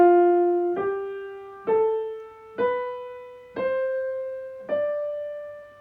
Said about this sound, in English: The scale using 8 white keys, beginning and ending on D, is called a Dorian scale.